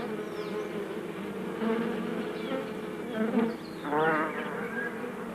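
Worker honeybees feeding at a dish of sugar water, a dense, continuous buzzing hum close up that swells and dips slightly with a few louder passes, no voices.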